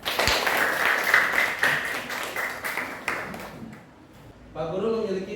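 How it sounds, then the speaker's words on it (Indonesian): A classroom full of students claps in a lesson on hydroelectric power, a burst of uneven hand claps that fades out, followed by a teacher's voice speaking. "Tepuk tangan semuanya."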